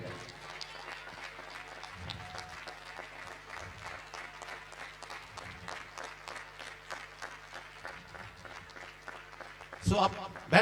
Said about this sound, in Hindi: एक बार जिला कलेक्टर के लिए डॉक्टर मंजू जी जो माननीय है, उसके लिए खड़े होकर ताली बजाएं